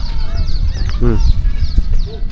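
Chickens cluck and squawk in agitation as they are grabbed in a rural village yard, a loud burst of flustered calls standing out over background chatter and ambient noise.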